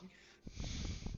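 A person imitates a loud snore with their voice, one rough snorting, wheezy breath that swells after a short quieter stretch and holds for under a second during a tabletop role-playing game session.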